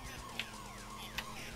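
Police car siren in the arcade racing game Turbo OutRun, a steady electronic wail with sweeping pitch glides repeating over a constant engine drone, with two short sharp blips standing out.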